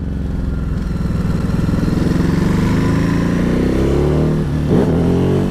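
A Ducati Hypermotard 950 SP motorcycle engine runs steadily and loudly at close range, holding a throbbing mid-range rumble with a brief rise and dip in pitch near the end, with no speech.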